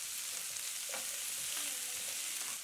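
Chaat masala is stirred into potatoes and chickpeas frying in a pan, a steady close sizzle with soft scraping strokes of the spoon through it and no speech.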